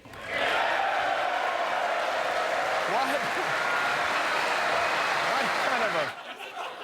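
A large audience in the chamber during a State of the Union address reacts with sustained murmuring, scattered applause and mixed vocal noise, steady for several seconds before it cuts off.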